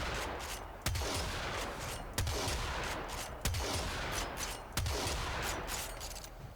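Corinth shotgun blasts in Warframe, four heavy booming shots spaced roughly evenly about a second and a quarter apart, each with a sharp onset and rumbling tail, loud and unaccompanied by talk.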